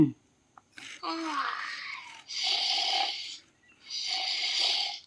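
An mTiny toy robot plays a cartoonish snoring effect: a warbling rising-and-falling tone, then two long, hissy snore breaths with gaps between them, heard clearly and close.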